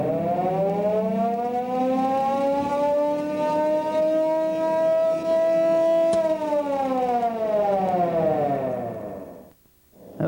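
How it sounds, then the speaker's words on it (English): Old restored fire truck pumper siren wailing loudly nearby, a long steady mechanical howl that holds its pitch, then slowly winds down and cuts off near the end. "That was a good old siren."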